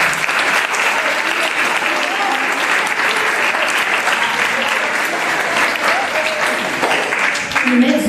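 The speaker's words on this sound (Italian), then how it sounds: "Facciamogli un applauso." Sustained applause from an audience at an awards ceremony for a sport and integration competition in Melito di Porto Salvo, a dense steady wash of clapping throughout that stays loud from start to finish.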